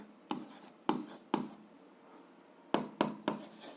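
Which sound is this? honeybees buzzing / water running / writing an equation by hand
writing an equation by hand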